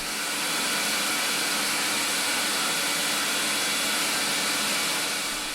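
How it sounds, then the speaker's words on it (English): A loud workshop vacuum system roars steadily with a constant broadband whoosh and no pauses, drowning out a drill press. "That vacuum system is so loud, it's drowning out the drill press."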